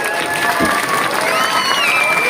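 A crowd at a political party rally in India claps and cheers steadily throughout, a dense wash of applause with a few whoops rising above it.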